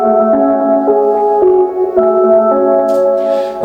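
A loud, dreamy melodic part with the high end rolled off and the mids boosted, shaped by a fuzz wah filter and compression, plays sustained notes that change pitch every half second or so.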